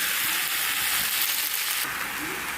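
Vegetables and Malabar spinach frying in a pan with ginger-cumin paste, a steady hissing sizzle with faint stirring, close and continuous.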